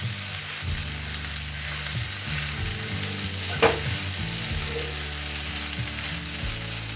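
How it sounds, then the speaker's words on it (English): Flattened rice (poha) being stirred and mixed with ingredients in a hot pan, giving a steady soft sizzle with scraping stir strokes and one brief clack midway, moderately quiet and without talk. "You have to mix this flattened rice with all the ingredients"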